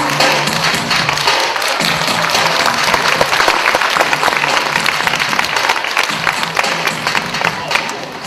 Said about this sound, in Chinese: 大家拍拍的掌声鼓励一下。